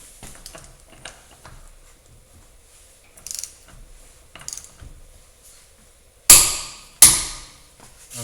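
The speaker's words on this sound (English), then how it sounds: "we're going to torque these axle nuts" A torque wrench ratchets and clicks while tightening the axle nuts on a VW Golf mk4 TDI, giving scattered faint mechanical ticks and then two sharp, loud clicks near the end.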